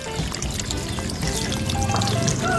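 Water poured steadily onto sand in a plant pot until it is fully soaked, making a continuous, fairly loud trickling and splashing wash close by throughout.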